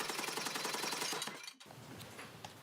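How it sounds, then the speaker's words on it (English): Gold leaf being beaten by hammer blows, a rapid steady rhythm of close mechanical strikes that stops abruptly, followed by quieter scattered taps. "The heat generated by the hammer blows softens the gold leaf so it gradually spreads out"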